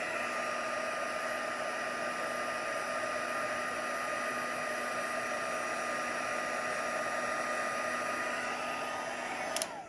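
A heat tool blows steadily while drying embossing powder, a loud, even whirring hum with a high whine that holds unbroken and close for the whole stretch before cutting off at the end.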